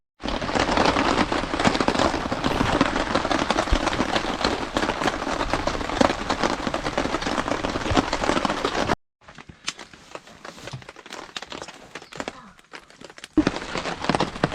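A campfire being started outdoors while camping: a loud, dense crackling and hissing burst runs for several seconds, then quieter, sparser crackles and pops follow.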